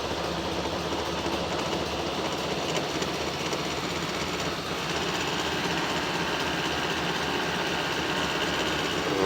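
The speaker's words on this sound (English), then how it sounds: "So I'm going to put my foot on the starter button, pull up on the choke." A Ford Model A engine runs steadily at close range, a continuous mechanical clatter with no pauses, loud and alone without talk.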